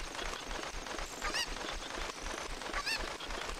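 Chickens in Zelda Ocarina of Time squawk and cluck over busy game noise, two sharp honking calls standing out clearly about a second and a half apart.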